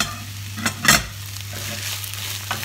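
Sautéed chicory and onion are stirred in a pan over soft, steady sizzling, with a few sharp scraping strokes, one louder clatter near the start and lighter stirring scrapes later, close up with no talking.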